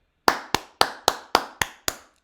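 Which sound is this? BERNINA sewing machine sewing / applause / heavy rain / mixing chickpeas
applause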